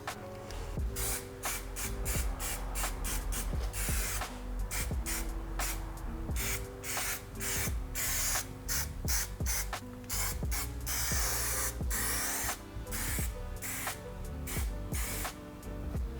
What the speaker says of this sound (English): we're going to spray some rust converter / primer on there